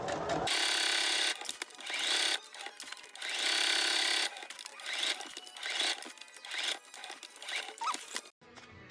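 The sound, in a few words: sewing machine stitching a handmade journal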